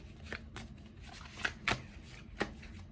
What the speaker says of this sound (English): Let's shuffle these properly.